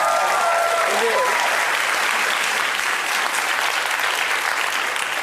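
Piped-in crowd applause sound effect from a televised broadcast, a dense, steady wash of clapping and crowd noise that holds level throughout, with brief voices over it at the start.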